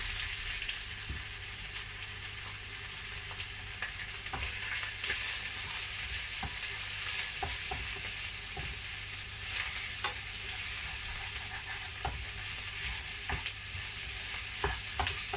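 Carrots and Chinese leaf stir-frying for chicken pad kee mao: a steady close sizzle runs throughout, with faint, irregular scrapes and taps from stirring and no talking.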